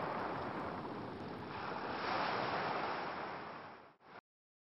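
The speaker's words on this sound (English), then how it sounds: "Sun setting on quietly crashing waves" Ocean waves wash up on a beach at sunset in a continuous broad roar that swells and then ebbs before cutting off abruptly, with some wind buffeting the microphone.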